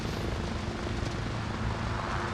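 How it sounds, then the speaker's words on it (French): A helicopter in the combat game Arma Reforger gives a steady, loud rotor and engine drone that holds unbroken throughout, with no talk. "regarde en face, il y a un hélico, on va voir s'il va se cracher ou pas."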